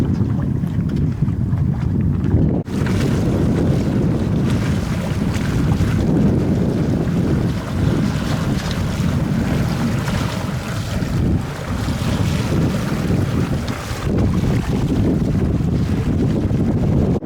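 A boat motors over open sea off the Welsh coast headlands, its engine droning under steady wind noise and splashing waves, loud and continuous.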